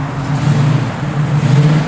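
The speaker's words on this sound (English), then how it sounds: "Give it a little rev, Gary." A 1968 Chevrolet Camaro RS/SS engine idles close and loud with a steady low rumbling throb, lifting slightly toward the end in a mild rev.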